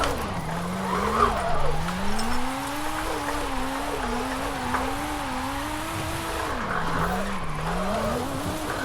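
A drift-build car in the racing game Forza Horizon 5 slides sideways under clutch kicks, its engine note rising and falling in long wavering sweeps over a steady, loud tire squeal that runs without a break for the whole stretch.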